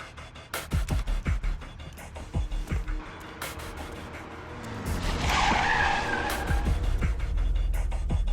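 A car approaching on a road with tires skidding and squealing, preceded by a series of sharp repeated knocks, then a loud, rising screech of rubber and engine noise close by, with no talk.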